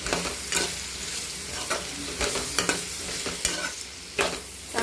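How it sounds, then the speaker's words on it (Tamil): Chilli powder and other spices are stirred into food frying in a pan, with sharp rhythmic spoon scrapes over a constant close sizzle. "நல்லா கிளறி விட்டுக்கலாம்"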